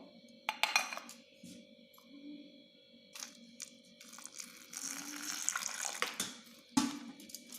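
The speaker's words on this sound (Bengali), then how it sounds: "এটাকে আর একবার জল দিয়ে একটু ভালো করে ধুয়ে নেব।" Chopped eggplant pieces being rinsed with water in a bowl, with soft splashing and trickling plus occasional light clinks against the bowl, quiet and close.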